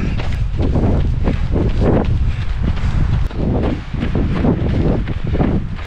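Strong gusting wind buffets the microphone on a snowy, icy mountain trail at dawn during the Trail du Ventoux race, a loud, constant roar with brief dips and possible footsteps.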